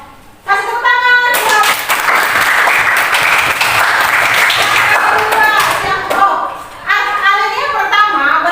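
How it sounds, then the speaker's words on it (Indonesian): Students in a classroom give a loud round of applause lasting several seconds, with a voice speaking before and after the clapping. "Kasih tepuk tangan."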